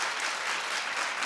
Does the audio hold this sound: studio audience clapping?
yes